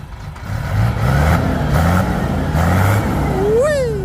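A Victor 344 ten-wheeler truck engine revs hard and steadily, a loud sustained roar that holds for several seconds, with a brief tonal whine rising near the end.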